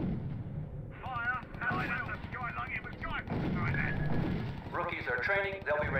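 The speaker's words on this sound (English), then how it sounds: "Open fire on the Katusha, please." Katyusha rocket artillery fires in the strategy game R.U.S.E., with rumbling barrages and booms running under frequent radio-style voice reports from units.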